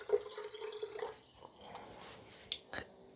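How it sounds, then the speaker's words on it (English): Hot water trickles and drips into a cup for evening herbal tea, a soft, close pour with a few splashes and drips, quiet and with no talking. "Now this is just some hot water I am putting in here."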